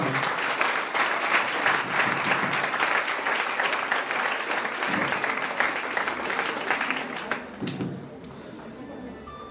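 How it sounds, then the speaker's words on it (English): Audience applause for faculty members and principals at a talk on degree-student placements, a steady dense clapping that runs loud for about eight seconds and then thins and fades toward the end. "You should applaud those two people"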